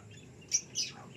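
Two short, high chirps from African lovebirds close together, faint against a quiet background.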